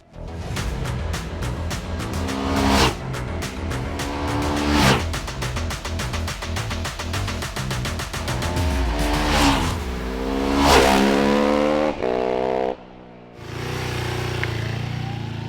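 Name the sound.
Ducati 999R V-twin motorcycle accelerating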